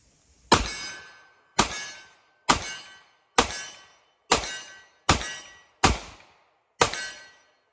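Eight sharp gunshots from a Colt Delta Elite 10mm pistol, fired one at a time at a steady pace of roughly one per second, each a loud crack with a ringing decay, outdoors.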